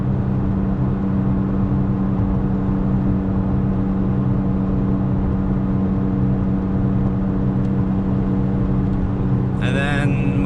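A 2017 third-generation Toyota Tacoma TRD Off-Road at about 60 mph in third gear near 4,000 RPM gives a steady, droning engine and road hum from inside the cab, with a brief higher noise near the end.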